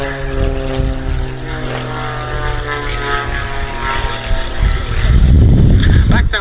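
A Pitts S-2S aerobatic biplane flies at a summer air show at Duxford, its propeller engine droning loud and steady with a rising, shifting pitch as it rolls overhead.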